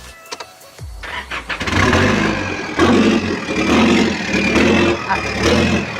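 A modified pickup truck engine with an electric throttle, starting up and revving: a few clicks, then the engine catches and roars loudly in repeated surging revs over a deep rumbling idle, close by.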